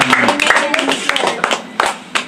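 A church congregation claps during a preaching service, a quick burst of scattered sharp claps mixed with voices, close and fairly loud.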